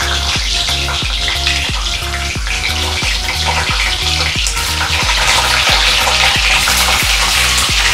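An egg dropped into hot oil in a pan in a student room kitchen, sizzling loudly and continuously up close with a steady crackling spatter, no voices.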